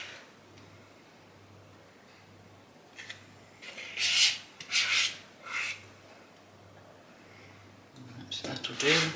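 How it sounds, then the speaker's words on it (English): A spatula rubbing and scraping gluten-free muffin batter from a bowl, several close rasping strokes in a row, with quiet speech near the end. "Just scrape as much as you can out because it's not used to anybody when it's down the drain."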